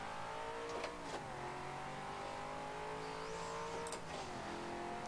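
In Forza Motorsport 7 during a time trial, a race car engine holds a steady high drone, briefly dipping and climbing again around a couple of gear shifts, with faint tire squeal. Loud and continuous, no voices.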